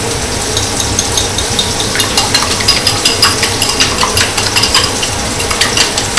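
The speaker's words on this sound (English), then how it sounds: "Whisk those up." Eggs being whisked in a bowl: quick rhythmic clinks and taps of a utensil against the dish, repeating steadily and close by, with no one talking.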